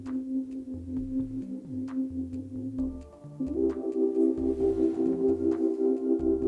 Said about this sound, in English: I also made some melodic stuff out of the drill.